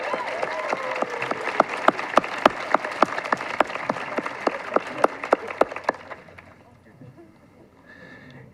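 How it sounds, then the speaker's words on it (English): Applause from a graduation audience, made up of sharp, distinct claps at a steady rhythm over a room murmur that fade out after about six seconds, leaving quiet background sound. "Round of applause for Mr. Upright, he's amazing."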